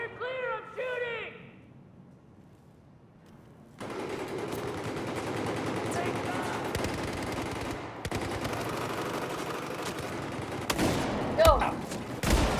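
Battlefield 4 multiplayer combat with sustained rapid gunfire and machine-gun bursts in a dense, noisy battle; a player talks over the shooting, and a few louder cracks come near the end.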